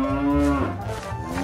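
A cartoon cow lets out a long, loud, close moo with a steady pitch that dips midway, then continues as a wavering bellow; no other voices.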